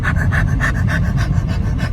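A voice imitates a dog's heavy breathing with quick, rhythmic panting puffs, about ten in two seconds, close and fairly loud.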